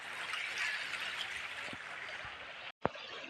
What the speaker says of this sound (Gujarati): પાણી કેવું જાય છે